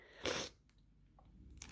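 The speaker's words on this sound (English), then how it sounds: "I'm gonna sneeze." One short, fairly quiet sneeze from a person suffering allergies, heard alone with faint rustling afterward.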